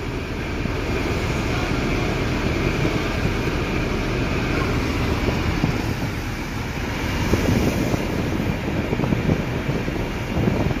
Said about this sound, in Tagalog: maalon, maalon ang panahon ngayon guys, si Amihan. Maalon kami dito ngayon sa Naga, Cebu.